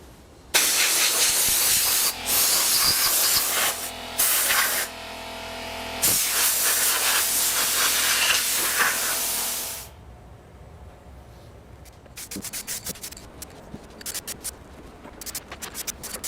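Clear coat sprayed onto a hanging Gibson Les Paul guitar body from an aerosol can: loud, steady hissing bursts of a few seconds each with brief pauses, then quieter rattling and handling sounds after the spraying stops.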